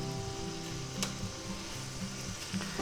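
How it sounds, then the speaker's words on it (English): Sliced ham frying in a pan for a grilled egg, ham and cheese sandwich, giving a faint, steady sizzle with a few small pops and clicks and no talk. "Now we'll take our ham, you know, the sliced ham, and we'll put that right in there and we'll cook them up"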